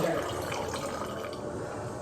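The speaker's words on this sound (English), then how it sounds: "So you gotta pour from the distance so it mixes it" A drink is poured from a height into a glass, giving a steady, close splashing pour of liquid that runs throughout with faint background voices.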